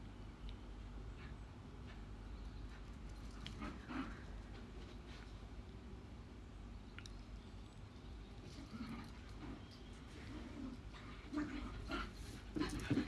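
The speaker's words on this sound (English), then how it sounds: "Can you hear the dogs fighting?" Dogs pant and scuffle in play-fighting, with intermittent growls and whimpers over a noisy outdoor background in Benidorm, the activity growing busier toward the end.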